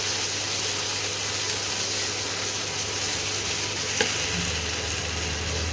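Spice paste (masala) frying in oil in a home kitchen for a Rajshahi-style duck egg curry, a steady close sizzle and crackle with a low hum beneath and a brief clink near the end, no talking.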